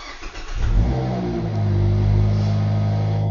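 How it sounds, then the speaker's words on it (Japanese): A used Mazda Roadster 1.5 S with six-speed manual, 27,600 km, cranks and catches, then settles into a steady idle that rises slightly, close by and clear. "ちょっとエンジンをかけてみます"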